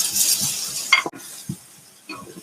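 Ginger sautéing in a pan for chicken tinola, with a spoon scraping and stirring in a few short strokes over a soft background sizzle, close and fairly loud.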